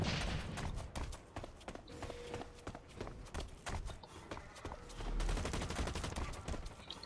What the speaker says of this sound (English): I can hear the bullets flying